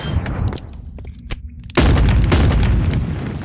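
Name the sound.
explosion in video game Animal Company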